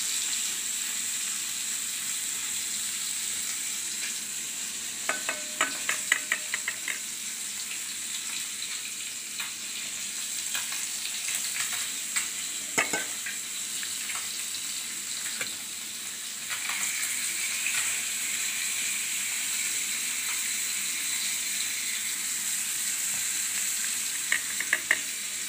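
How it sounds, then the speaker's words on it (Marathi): Fish frying in oil on a hot pan gives a steady close sizzle that runs throughout, with occasional light clicks and taps of a utensil and no voices. "आता त्याच्यामध्ये तेल सोडू आपण. एक एक मासा सोडतो."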